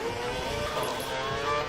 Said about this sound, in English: You can hear it, the tyres screeching.